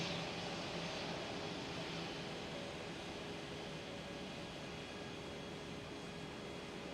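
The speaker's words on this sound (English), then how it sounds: "Another ITA. This time it's an" An ITA Airways Airbus A220, the former Bombardier C Series, arrives at Amsterdam Schiphol with a faint, distant, steady jet rumble that stays even throughout, with no voices.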